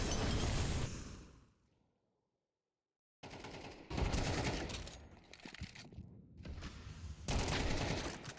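Rapid bursts of gunfire from an esports first-person shooter match, loud and dense, breaking off into a short silence before more volleys resume, with a whoosh-like sweep among the shots.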